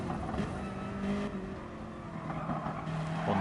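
A race car in the racing game Pinnacle GT braking hard at the end of a back straight, steady engine tone dropping in pitch with faint tire noise, fairly loud and continuous.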